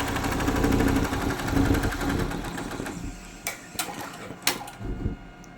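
Computerized embroidery machine stitching hand butis, a steady close mechanical whir with rapid needle rhythm for the first few seconds, then fading into quieter clicks and short taps.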